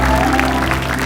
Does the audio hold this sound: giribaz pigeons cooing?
no